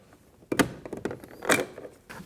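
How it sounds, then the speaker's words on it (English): Plastic trim tool prying a cap off the door handle of a Kia Optima, giving close clicks, scrapes and a sharp snap, with a final click at the end. "Using the same trim tool, we're going to go ahead and take this cap off."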